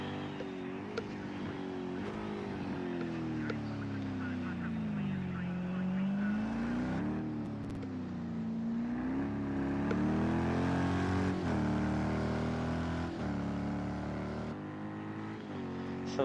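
Race car engines from a GTE 24-hour racing video game at the Nurburgring Nordschleife drone steadily for the whole stretch, rising and falling in pitch as they accelerate, with several cars layered under an ongoing commentator's voice.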